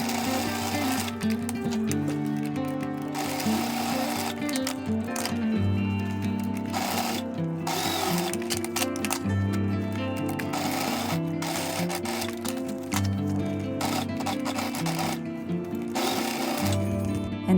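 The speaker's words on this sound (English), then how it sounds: "And now I'm just taking the corners and lining those up with the top hems and sewing a straight stitch." A sewing machine runs a straight stitch through fabric lining for a key ring basket, its close rapid mechanical whir coming in rhythmic bursts separated by short pauses.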